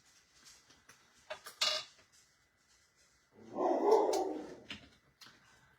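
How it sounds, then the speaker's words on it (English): Dogs bark faintly outside in the distance, a few scattered short barks followed by a longer, louder vocal burst, with quiet creaks and clatter indoors. "I could barely hear dogs barking in the background outside"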